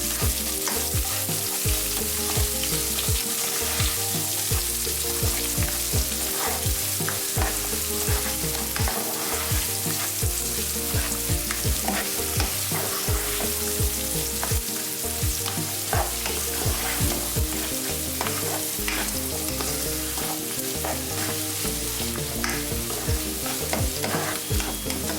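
Chicken curry sizzles steadily in a pan while being stirred, with a constant loud frying hiss and repeated scraping strokes of the spoon, close up with no talking.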